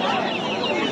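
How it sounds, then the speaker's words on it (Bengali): Turkeys at a crowded poultry market give a brief, close, steady burst of clucking and squawking calls that fills the short moment. "দেখতে পাচ্ছেন টার্কি মুরগি,"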